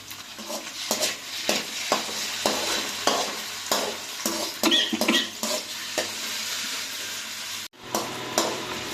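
Liver masala frying with ginger paste in a pan, stirred with repeated scraping strokes over a continuous close sizzle, with a brief dropout near the end.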